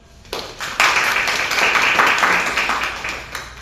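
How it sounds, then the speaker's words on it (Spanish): An audience at a conference begins clapping after a quiet start, swelling quickly into sustained, fairly loud applause from many people that holds steady and then eases slightly toward the end. "les pido un gran aplauso, por favor"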